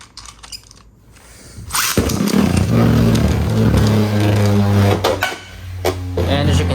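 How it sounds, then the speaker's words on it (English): A Beyblade Burst Greatest Raphael top launched into a plastic stadium, a sharp rip of the launcher followed by a sustained, close whirring spin with scraping and rattling against the stadium. "Now we're gonna do a test spin and battle for Greatest Raphael"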